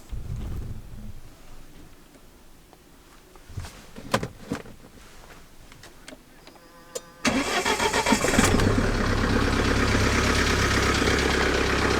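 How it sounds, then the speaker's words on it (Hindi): A vehicle cold-starts in a snowstorm at Chandratal–Batal in Spiti: quiet wind and scattered clicks, then after a short crank the engine catches in one go and settles into a loud, steady idle close by. "let me try for a cold start of my vehicle"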